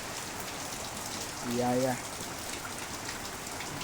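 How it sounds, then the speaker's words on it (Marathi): Heavy monsoon rain pours down during a red-alert downpour in the Konkan countryside, an even, dense hiss throughout, with one voice calling out briefly in the middle. "भिजला असशील ना. काय पाऊस आहे."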